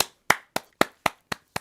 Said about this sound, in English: So there's this delay in my applause.